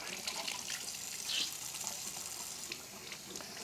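Tap water runs softly as a makeup sponge is rinsed clean, a faint continuous splash with a brief brighter squelch partway through.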